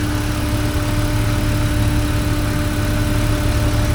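A 2005 Jeep Wrangler TJ engine idles steadily with a loud, constant low hum and mechanical vibration, idle raised to about 1,000 rpm amid a loss of throttle power and an odd under-hood noise, with no talking.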